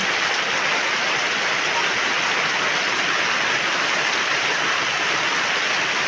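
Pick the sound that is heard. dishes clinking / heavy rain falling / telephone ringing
heavy rain falling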